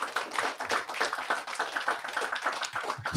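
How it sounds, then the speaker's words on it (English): Audience applause at a Feast of Purim gathering, a steady wash of many hands clapping together, fairly close and continuous throughout without any talk over it. "Y'all can start clapping for these sisters"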